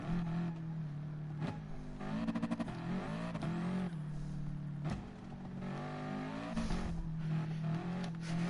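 A race car in a PS4 racing game revs and downshifts, engine whining up and down with crackling pops of backfire on the lift-offs, steady and close with no talk.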